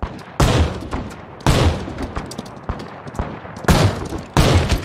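Gunfire in the video game GRIT comes as loud, repeated volleys of shots, about five heavy bursts with quieter crackling between them, close and dominant.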